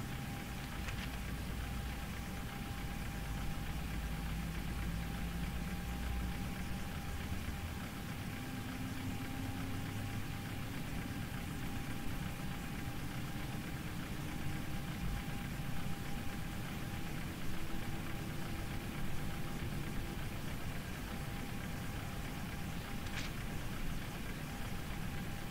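A steady engine drone hums through the whole stretch as an aircraft engine, engine number two, is started in Flight Simulator X. The sound is an even, continuous rumble, with faint tones that rise slowly as it spools up.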